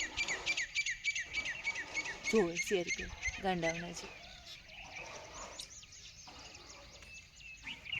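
Small birds chirp in quick, high, rapid trills close by, fairly faint, while a person talks softly over them in the middle.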